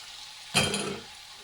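Cut cherry tomatoes and basil dropped into a hot pan with garlic, a sudden loud sizzle that bursts up and then settles into a softer frying hiss, no talking.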